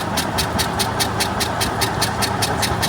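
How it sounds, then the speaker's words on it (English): BMW Isetta engine cranking over with a little throttle, a fast, even rhythmic chugging of the starter and engine, close and loud, without catching, with no talk. "give me a little bit of throttle? Just a hair. Right there. And crank it."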